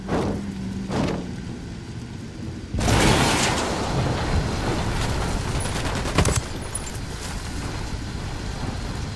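Gunfire in the tactical shooter Ghost Recon Wildlands: a loud, dense burst of shots erupts a few seconds in and rolls on as sustained, booming volleys that fill the rest of the scene.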